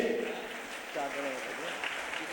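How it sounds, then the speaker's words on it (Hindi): A crowd at a Jain religious gathering claps briefly in a steady wash of applause while a voice carries on speaking over it. "एक बार जोरदार ताली बजाइए"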